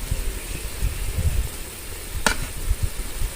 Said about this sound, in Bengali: এই যে সেই রোস্ট ভাজা